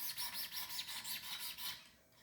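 A sharpening blade is scrubbed back and forth on a stone to raise a burr, making a quick rhythmic rasping with about eight strokes, close and steady, before it fades out.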